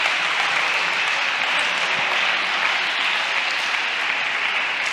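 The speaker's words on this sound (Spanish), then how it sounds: "Un aplauso" An audience at a conference talk on neuromarketing claps steadily for about five seconds, a dense even applause with no voices.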